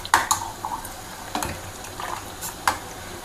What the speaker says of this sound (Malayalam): എന്നിട്ടൊന്ന് നന്നായിട്ട് മിക്സ് ചെയ്ത് കൊടുക്കുക.